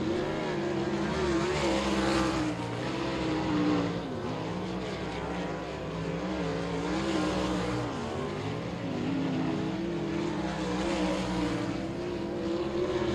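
Race cars on the Short Track Nationals at I-30 Speedway roar around the short track, engine noise rising and falling as they pass in waves, fairly distant and continuous, with no talk.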